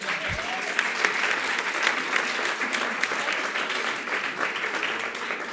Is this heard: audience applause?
yes